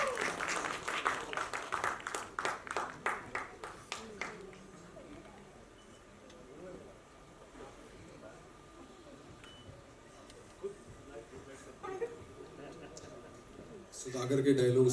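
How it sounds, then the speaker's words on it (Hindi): Audience clapping at a Bollywood film teaser and book launch, rhythmic and fairly distinct at first, then fading into a quieter room murmur with speech and scattered sounds before louder noise returns at the end. "Can we please have a huge round of applause?"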